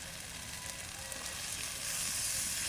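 Tomatoes dropped into frying chili and spice paste for a fish curry, a soft steady sizzle that grows a little louder toward the end, no talk.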